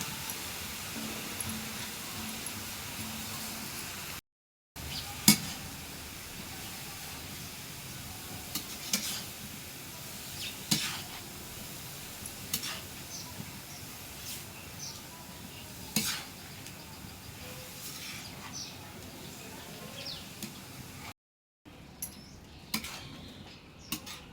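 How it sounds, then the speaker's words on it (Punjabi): Grated carrots roast in ghee in a kadai for Punjabi gajrela. A low, steady sizzle runs under repeated clinks and scrapes of a ladle against the metal pan as the carrots are stirred. "ਸਾਰੀਆਂ ਗਾਜਰਾਂ ਕੜਾਹੀ 'ਚ ਪੈ ਚੁੱਕੀਆਂ ਨੇ ਤੇ ਇਹਨਾਂ ਨੂੰ ਘਿਓ 'ਚ ਚੰਗੀ ਤਰ੍ਹਾਂ ਭੁੰਨ ਲੈਣਾ"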